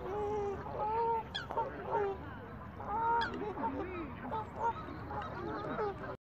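Geese at Fairlop Waters lake give repeated nasal honks in irregular bursts, fairly faint and at a moderate distance, with a low outdoor background between calls.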